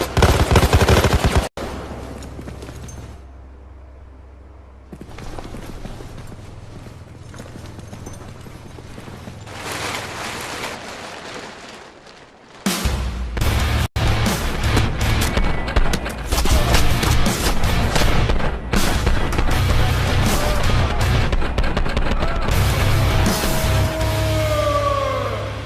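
Sustained automatic gunfire in the video game Payday 2 rattles loud and close, with a quieter stretch early on before dense bursts of shots fill the rest of the scene.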